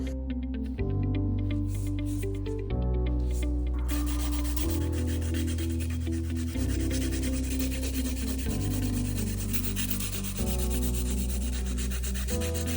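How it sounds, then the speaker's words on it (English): A 180 grit nail file rubs back and forth across fingernails, close and steady scratchy strokes in repeated passes with no speech. "So we shape the nails with a 180 grit file."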